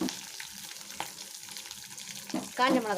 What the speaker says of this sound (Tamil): இதை நம்ம வதக்கணும்.